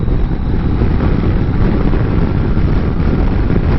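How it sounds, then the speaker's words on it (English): Wind roars steadily around the windshield of a 2019 Yamaha Tracer 900 GT, set in its lowest position, while riding on the highway at about 85 mph, a constant loud rushing with no speech. "Windshield in the lowest position. The airflow is smooth. There's no buffeting, but there's some noise."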